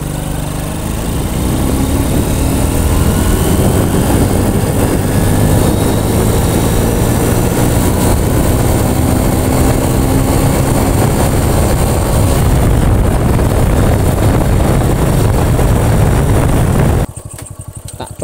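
A Honda Astrea Grand motorcycle engine, recently repaired, drones loud and close through a test ride, holding a steady buzzing tone for most of the run before cutting off abruptly near the end.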